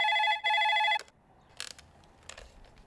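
A telephone rings once with a bright, steady electronic tone lasting about a second. Faint clicks and handling sounds follow as the call is picked up.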